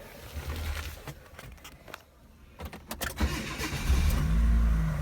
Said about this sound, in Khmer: នេះឡានបញ្ឆេះហើយបាទចំពោះម៉ាស៊ីននេះស្ងាត់ល្អណាស់